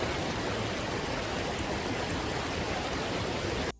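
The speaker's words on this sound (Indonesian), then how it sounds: "Ya, jadi seperti inilah permasalahannya ya, terjadi banjir." Floodwater rushes steadily in a loud, dense roar of flowing water that stays constant and close throughout, then cuts off abruptly at the end.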